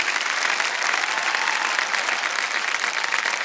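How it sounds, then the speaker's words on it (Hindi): A studio audience on the KBC quiz show claps loudly and continuously, a thick, even roar of applause for a few seconds with no voices on top. "ताली बजती रही।"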